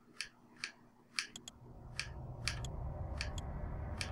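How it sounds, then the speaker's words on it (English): Buttons on a WaveBird wireless game controller clicking during Eternal Darkness play, around ten sharp, close, irregular clicks over a low background hum. "you can hear me pressing the wave bird, but it doesn't move every time."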